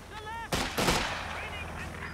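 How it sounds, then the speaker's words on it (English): Fragmentation bombs going off in the World War II strategy game Company of Heroes 2: two sharp, loud blasts close together, then a fading rumble under faint tonal game sounds. "Fragmentation bombing has begun."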